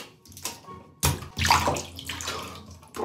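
Water pours into a bathtub being filled for jelly, a loud rushing gush that starts abruptly after a brief quieter spell and continues steadily with splashy fluctuations.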